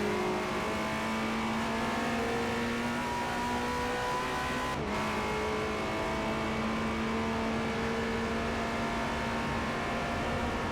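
Engine of a Pagani Zonda R race car in Forza Motorsport 4 revs hard and steady at close range, a loud sustained drone with one brief dip near the middle, running alone without talk.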